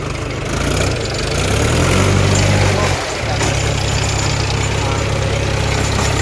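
A farm tractor pulling a cultivator through a field, its heavy engine droning loud and close with a brief dip in the middle, while a person talks over it.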